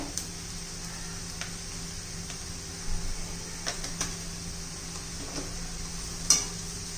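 Onion sautéing in a pan with asafoetida for a spinach and pea curry: a faint, steady sizzle with a few soft stirring scrapes and clicks, low and continuous throughout.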